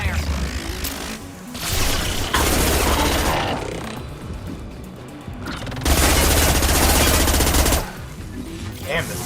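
Sustained automatic gunfire from the player's heavy-recoil weapon in a video game, loud, dense bursts with short pauses between them and a low rumbling body, alone without talk.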